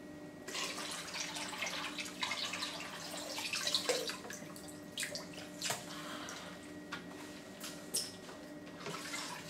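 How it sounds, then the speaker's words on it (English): Water poured out of a full filter canister from an Unger HiFlo DI140 deionising filter into a bucket, a steady splashing and trickling flow with irregular louder gushes throughout, no talking. "Empty out the water into a bucket."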